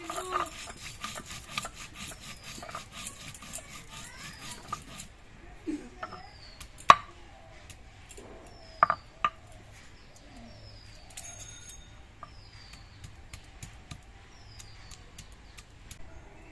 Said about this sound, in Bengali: আর এক চামচ জিরে নিচ্ছি সবকিছু একসঙ্গে বেটে নিচ্ছি